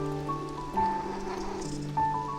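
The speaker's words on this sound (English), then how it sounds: "so suddenly we hear a cat." A cat's meows in the video game Beyond Eyes, two short tonal calls heard fairly close over a soft rain-like background hiss.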